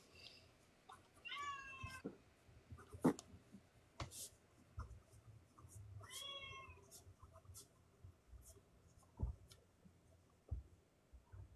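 A domestic cat meows twice, each call a clear rising-falling cry about four seconds apart, close and fairly quiet, with soft clicks and taps from a room around it.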